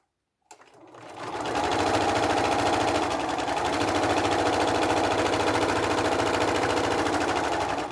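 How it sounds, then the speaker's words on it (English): A sewing machine runs a continuous straight stitch close along a folded top edge of fabric, a steady rapid mechanical whir that starts after a brief pause and holds loud and even to the end. "put your machine on straight stitch and sew very close to that top"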